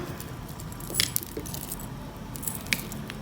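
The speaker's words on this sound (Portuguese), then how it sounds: "Vou arrumar a corrente para não ficar torcida." Metal chain strap of a round crochet bag made from T-shirt yarn being adjusted, giving a few faint jingling clinks at close range in a quiet room.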